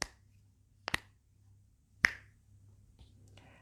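Two crisp, isolated finger snaps about a second apart ring out in a quiet room with a low hum, part of a calm guided meditation.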